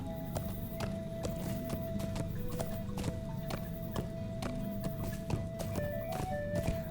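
A horse mount walks in the Lord of the Rings Online game, hooves clopping in a slower, looser rhythm at close range over a low steady bed, with a brief faint whinny-like tone and no talk.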